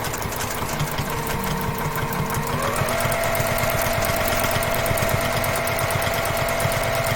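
Domestic sewing machine back tacking through a heavy quilt, a steady close running whir with rapid needle rhythm that shifts pitch partway as the direction changes, continuous and alone throughout.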